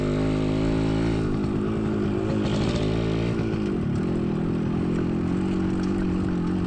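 A motorcycle rides along a rural path in a remote coconut-farming area, its steady engine drone loud and close throughout with slight shifts in pitch as it moves.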